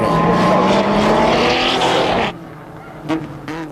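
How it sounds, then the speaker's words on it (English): An aging Ford Capri race car at the 1990 Phoenix Park motor races roars past loudly with a strained, rising engine note. After it passes, the sound drops away to quieter distant engines and a couple of brief revving bursts. "here's Mick Fitzgerald in the now aging Capri, finding that the road holding just doesn't match up to the modern machinery"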